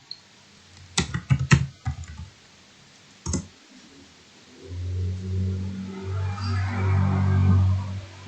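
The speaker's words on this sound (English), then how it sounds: "type the word Lamborghini into search in your browser." A computer keyboard used to type a search into a web browser: short clusters of sharp key clicks close by, followed by a steady low humming drone that fills the rest.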